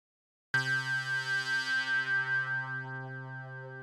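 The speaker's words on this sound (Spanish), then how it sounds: "Vamos a poder cambiar ese filtro a, por ejemplo, el filtro OSR, que está basado en el filtro de un sintetizador que se llamaba Oscar." An Ableton Live Wavetable synth runs through its OSR filter, modeled on the OSCar synthesizer, holding one sustained buzzy, harmonically rich note that pulses in a slow regular wobble before settling steadier.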